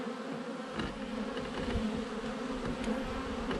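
Honeybees buzz steadily around hives at a beekeeping yard during hive relocation and feeding, a dense continuous drone of many insects, close and even, with no talking.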